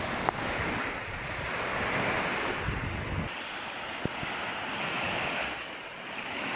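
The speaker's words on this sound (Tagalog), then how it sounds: "Lumalakas pang alon" Strong sea waves during a typhoon surge and crash in a loud, continuous roar, mixed with gusting wind buffeting the microphone, with a couple of sharp knocks.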